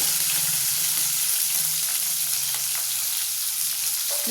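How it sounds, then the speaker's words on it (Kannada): Lemon pieces dropped into hot oil with coriander seeds and spices for lemon pickle, giving a steady, close frying sizzle with faint crackles and stirring throughout. "ಕೊತ್ತಂಬರಿ ಕಾಳು ಹಾಕಾದ್ಮೇಲೆ ನಿಂಬೆಹಣ್ಣು ಹಾಕ್ತಾಯಿದ್ದೀನಿ."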